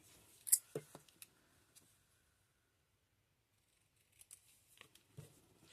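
Cardstock for a fractured card gets cut in a few quick, close snips near the start, then a quiet gap, then another short cluster of crisp cuts and handling rustles.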